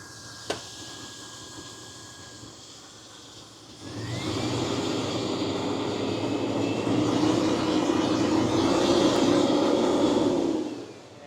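A 1994 Chevy engine idles with its A/C compressor running, then revs up to a louder, steady roar that holds for several seconds before dropping away.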